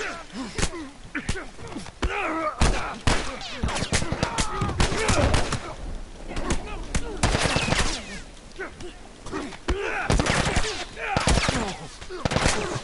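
Rapid bursts of gunfire from The Last of Us, sharp shots crackling in irregular volleys across the whole stretch, loud and close, with scattered voice sounds mixed in.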